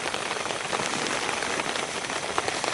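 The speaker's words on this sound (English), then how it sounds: "Rain is pouring through the door." Heavy rain pours just outside an open tent door at a garden wild camp, a loud, dense, continuous hiss of drops hitting the ground and fabric close by, with no voices.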